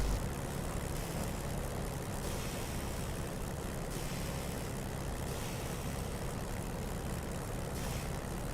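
A flight-simulator aircraft engine drones steadily with a constant propeller-like hum, holding an even, close roar throughout with no talk.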